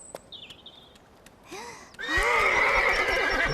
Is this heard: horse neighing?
yes